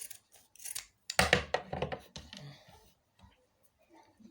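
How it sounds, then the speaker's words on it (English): Scissors snip through fabric being cut in two for a turban, a few close, crisp cutting strokes clustered in the middle with quiet pauses around them. "so I'm going to cut this into two this way."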